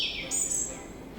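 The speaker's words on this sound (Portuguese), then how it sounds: "Existem 7 espécies de urutau, espalhadas do México à Argentina, e são extremamente difíceis de observar." A potoo (urutau) bird gives a brief call of high, thin whistled tones that hold and then fade within about a second, heard alone at moderate level.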